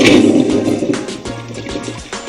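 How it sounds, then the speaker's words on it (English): A composting toilet that uses just one pint of water per flush, heard as a short rushing gurgle of water that tails off over a couple of seconds, close and fairly loud, with no talking. "This composting toilet uses just 1 pint of water per flush."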